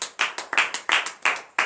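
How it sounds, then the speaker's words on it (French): A church congregation at a morning prayer service in Bénin claps in acclamation, about eight distinct sharp claps in an uneven rhythm, close and clear, with no voices. "Donnez de vive acclamation à l'Éternel"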